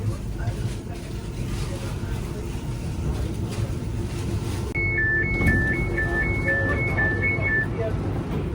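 A door buzzer on a new B23 stock Docklands Light Railway train sounds as a repeating two-tone beep, about eight alternating pulses over a few seconds, above the steady hum of the train interior.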